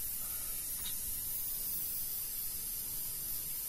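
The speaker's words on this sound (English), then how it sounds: "So I got my airbrush way back here" An airbrush sprays paint onto a Batman figure, a steady close hiss of air that holds evenly throughout without voices.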